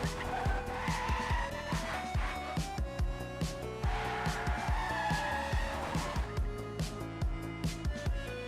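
A car drifts in a racing video game, its engine revving in fast repeated bursts as shifting tire squeals rise and fall, sustained and close throughout.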